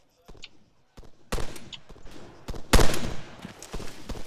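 Video game gunfire aimed at a Strider: bursts of sharp shots crack out in quick clusters, growing louder and denser toward the middle, with brief gaps between volleys.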